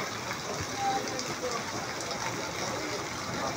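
Steady hiss of heavy rain falling continuously in Lopez, Quezon, even and moderately loud, with no talk over it.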